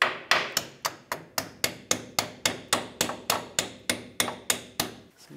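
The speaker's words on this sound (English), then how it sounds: "I can do this with a hammer" A hammer strikes a steering rack mounting bushing on a 1996-2002 Toyota 4Runner in a steady series of about eighteen sharp, ringing metal taps, evenly spaced and close up, with no talking.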